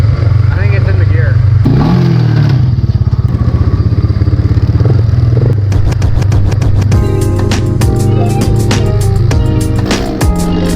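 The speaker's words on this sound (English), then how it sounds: "You hear that rattling? I think it's in the gear." An off-road motorcycle engine runs loudly and close by with rapid rattling clatter and shifting revs that builds toward the end, while people talk over it.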